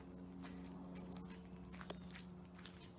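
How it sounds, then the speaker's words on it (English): Insects chirp faintly outdoors in a quiet, distant-sounding setting, a thin high buzzing trill with soft scattered ticks and one brief click, no voices. "Auditory communication between insects."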